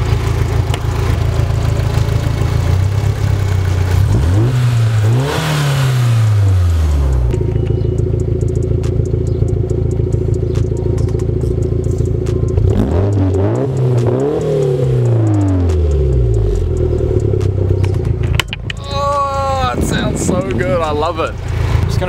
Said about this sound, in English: I haven't actually shown what the car sounds like on camera, so this is it with a bit of a rev.